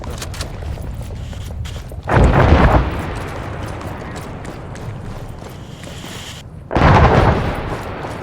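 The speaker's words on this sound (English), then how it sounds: "We got a rocket strike coming in on the town." Two heavy rocket strike explosions hit a town in a military video game, a few seconds apart. Each is a loud, booming blast with a rumbling tail, over a steady background of distant battle noise.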